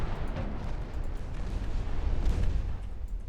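Heavy naval main-gun salvos from warships in the Ultimate Admiral Dreadnoughts game, a continuous rumbling barrage of deep booms and blasts rolling together loudly for a few seconds.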